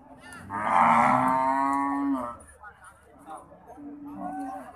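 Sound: cattle mooing at a cattle market

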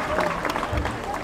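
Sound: passengers clapping at an equator crossing ceremony on a cruise ship

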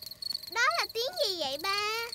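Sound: crickets chirping in cartoon

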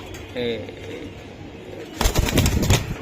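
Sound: pigeon cooing

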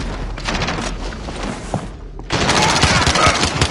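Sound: gunshots in Call of Duty Warzone video game

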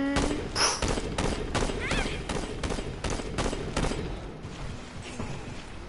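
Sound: shotgun fire in the video game Saints Row

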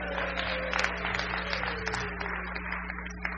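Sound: audience applause for the cameraman

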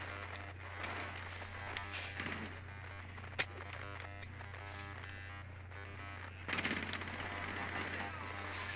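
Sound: gunfire in Rainbow Six Siege video game

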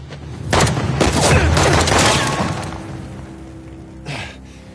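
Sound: gunfire in video game Uncharted: The Lost Legacy

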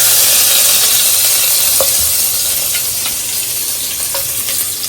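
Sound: whole spices sizzling in hot oil for fish biryani

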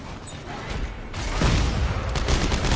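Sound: shotgun blast in video game Dead Space 3

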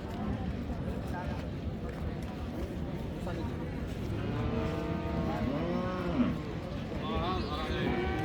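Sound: cattle at a cattle market

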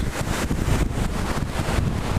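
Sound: wind

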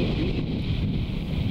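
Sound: strong wind on a coastal golf course

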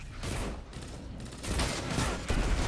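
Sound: rocket launcher firing in the video game Destiny 2

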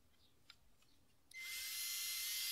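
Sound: driver with flexible extension driving pocket screws into wood

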